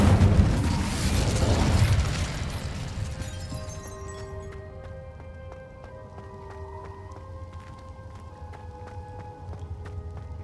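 An Incendio fire spell in Hogwarts Legacy: a loud, roaring burst for the first couple of seconds, then it dies down into quiet, shimmering magical tones and soft chimes.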